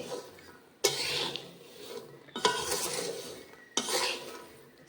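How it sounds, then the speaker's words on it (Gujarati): Peanuts roasting with salt in a pan, stirred in three sharp scrapes and rattles that each trail off into a soft shuffle, near and moderately loud, without speech. "સિંગ આપણે નમક સાથ શેકીએ"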